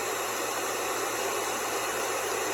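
A white noise machine plays a steady, even hiss of broadband static, constant and unbroken throughout, with no voices.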